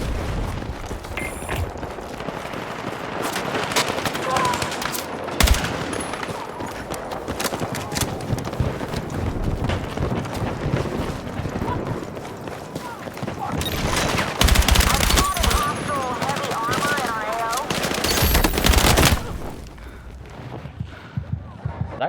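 Video game battle in the Minds Beneath Us 2 mod, with dense rapid gunfire bursts and booming explosions mixed with clattering noise throughout, while a player talks over the action.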